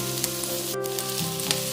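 Sliced onion and capsicum sauté in oil over a medium flame with a bright, steady sizzle, broken by a few light spatula taps and stirs against the pan.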